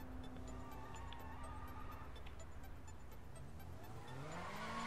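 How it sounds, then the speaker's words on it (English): A race car drives by in the Sleeping Dogs video game, its engine drone steady before rising in pitch near the end, with a faint tire squeal under light street ambience. "Oh, no, that's a race car."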